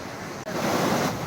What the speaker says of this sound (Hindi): सिर्फ शोर सुनाई दे रहा है किसी नदी का, किसी झरने का, और शोर भी बहुत ज़्यादा है